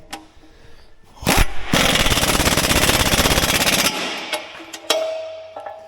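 Harbor Freight impact wrench hammering on a worn socket while installing a winch on heavy equipment: a loud, rapid rattling burst lasting over two seconds, preceded and followed by shorter clicks and knocks.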